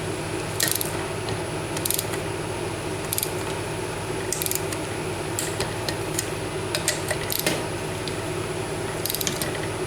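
Ratcheting torque wrench tightening the bottom engine case bolts on a Yamaha Banshee, close up, with bursts of quick clicking at irregular intervals over a steady background hum.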